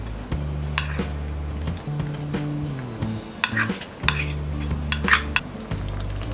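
Grated cheese being stirred into white sauce pasta in a pan, with close spoon clinks and scrapes against metal over a steady low hum of the stove, and no talking.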